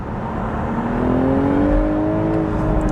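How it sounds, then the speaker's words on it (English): A BMW Z4 M40i sports car with no OPF filter on its exhaust revs up, its engine note climbing steadily over a few seconds, loud and close with no talk. "it does not get the OPF filter installed on the exhaust, so therefore it sounds a lot better than will do in Europe"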